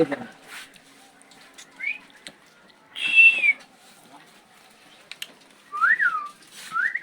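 A pet bird inside a shop gives a few short, rising-and-falling whistled chirps, spaced a few seconds apart, clear but not loud over a quiet room with faint background murmur.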